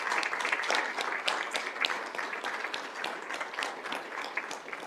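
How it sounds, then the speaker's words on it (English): An audience at a school district governing board meeting applauds a student being honored for community service, a steady, fairly faint patter of many hands with no talking over it. "give you a huge round of applause"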